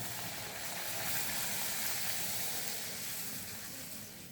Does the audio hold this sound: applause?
no